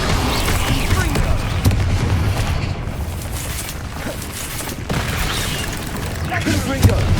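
Repeated Confringo fire-spell blasts in Hogwarts Legacy, dull booming bursts scattered through a dense, busy combat mix of clashing effects and mechanisms.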